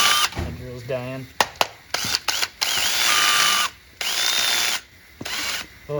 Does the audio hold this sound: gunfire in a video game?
no